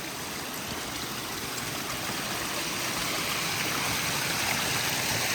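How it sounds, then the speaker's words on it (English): The Stillaguamish River rushes steadily through a wooded trail area along the Mountain Loop Highway in winter, a continuous broad wash of flowing water heard from nearby, unbroken and without talk. "the river you're hearing is the Stillaguamish"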